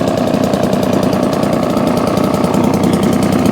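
A 1954 Atco Villers Midget kickstart lawn mower running on a 40:1 fuel mix, its small two-stroke engine popping in a fast, even, close-up rhythm that holds steady for a few seconds without talk.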